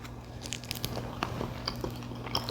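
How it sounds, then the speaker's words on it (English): Crisp crust of artisan bread baked in a bread machine with the Dutch oven method being bitten, giving a few close, dry crunching bites and chewing over faint background hum, no talking. "Now let's take a test and see if you can hear the crust."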